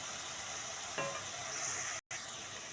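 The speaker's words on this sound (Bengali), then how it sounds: "এইভাবে আমি মশলাটা কষে নেব যতক্ষণ না এর কাঁচা গন্ধটা না বের হয়" Spice paste sizzles and hisses in a pan as it is fried and stirred for a coconut-milk pointed gourd dish, a faint steady crackle with a brief scrape of stirring.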